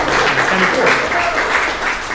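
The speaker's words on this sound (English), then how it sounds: "So give yourself a big round of applause." An audience at a live show in a flight lounge claps in a dense, even burst of applause that lasts about two seconds.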